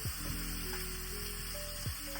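Onions sizzle steadily in a hot pan for an onion curry, a dense, even crackle of frying close up with no pauses and no voices.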